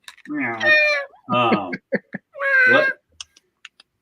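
A person imitates a cat's meow with a few drawn-out, pitched mewing calls, close and clear, followed by short clicks and small vocal sounds at the end.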